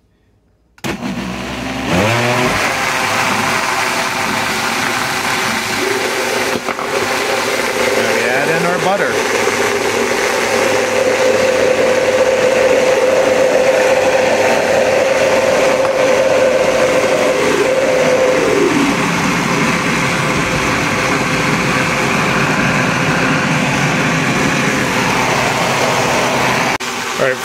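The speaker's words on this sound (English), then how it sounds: "So we're going to start our blender one more time." A blender whirs steadily for a long stretch while mixing waffle batter with melted butter, a loud continuous motor drone with a sustained whine, with a person talking over it.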